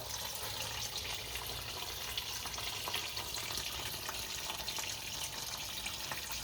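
Antifreeze coolant draining from the radiator of a 1983 Buick Regal with the drain plug removed, producing a constant, even rushing of liquid that runs without a break throughout, with no talk.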